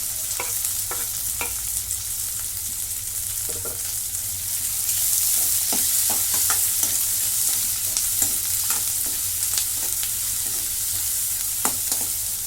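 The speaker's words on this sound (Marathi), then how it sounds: "आता कांदा चांगला लालसर होईपर्यंत भाजून घेते" Two medium onions frying in a pan on the stove, a steady bright sizzle with soft scraping and stirring strokes repeating at irregular intervals, close and without speech.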